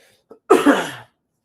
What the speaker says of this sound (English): I still have this nasty cough